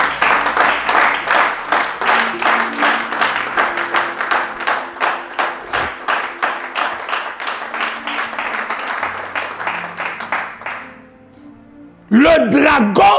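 A congregation claps in a steady rhythmic beat through a church service for about eleven seconds. The clapping fades briefly, then a voice breaks in over renewed sound at the end.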